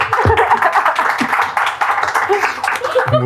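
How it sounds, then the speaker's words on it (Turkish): A talk show audience claps in short, scattered bursts while people laugh and talk over it. "Mutluluktan alkışlar."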